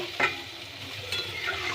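Eggplant and potato curry stirred in a pan right after water is added, a utensil scraping and sloshing through the bubbling liquid in close, moderately loud strokes, with a sharp clink near the start and a faint sizzle underneath.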